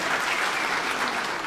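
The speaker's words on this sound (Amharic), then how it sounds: "ለአቶ ያሬድ ጥበቡ አንድ ሞቅ ያለ ጭብጨባ አድርጉልኝ።" Audience applause for Yared Tibebu: a dense, even burst of many hands clapping at once, close and loud throughout.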